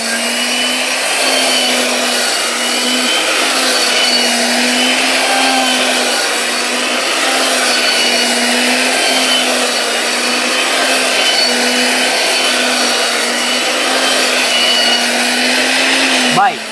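A 2000 W mixer grinder rated at 28000 RPM runs loud and close while mincing a whole chicken with bones, giving a steady, unbroken high motor whine and roar that cuts off right at the end.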